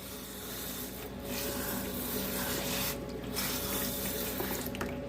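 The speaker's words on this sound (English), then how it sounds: "Wash this bowl very thoroughly because the gold loves to stick." A gold concentrator bowl is washed under a running tap, a steady rush of water splashing continuously and fairly close, with brief rubbing and scrubbing against the bowl.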